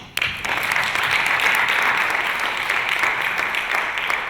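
Summit attendees at a convening give themselves a round of applause, which starts abruptly and holds as a full, steady roar of clapping from a large crowd, loud and close.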